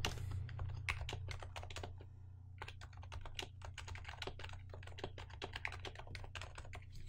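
Keys clatter in a steady, fast run of crisp clicks as code is typed on a computer keyboard during a Java programming session, with a brief pause near the start and a low hum running beneath the nearby typing.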